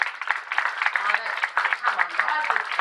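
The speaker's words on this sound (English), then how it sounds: "Can we get a big round of applause for Sisters Eye?" Audience applause at an OzAfricanTV community event, scattered claps mixed with loud cheering and voices, rising and falling throughout.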